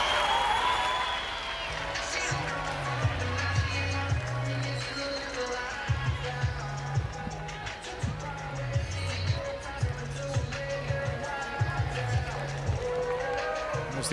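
The Oklahoma State cheering section roars in a softball stadium at the Women's College World Series, with sustained crowd noise, rhythmic chants and claps beneath a commentator's voice.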